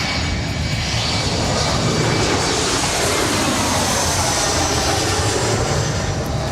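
A SkyWest Embraer E175 regional jet arriving at LAX from Kalispell, a loud, broad engine roar filling the whole clip at steady high level, no voices.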